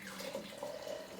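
Boiling hot water poured from a vessel into a bowl of flour for dough, a soft, steady liquid stream trickling close by without talk.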